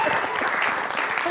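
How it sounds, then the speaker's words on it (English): A church congregation bursts into dense applause and cheering, a brief close wash of clapping with voices mixed in. "You get a cheer"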